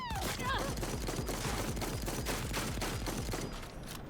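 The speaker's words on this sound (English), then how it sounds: "I'll show you guys this shotgun" Rapid, dense gunfire from a shotgun in the Cyberpunk 2077 Phantom Liberty video game, loud and continuous, with repeated blasts running through the whole stretch and a short rising electronic whine near the start.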